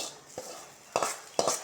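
A spoon scrapes and clinks in a pan while elephant yam flower thoran is stirred. Three or four short, distinct strokes sound close by, with no talking.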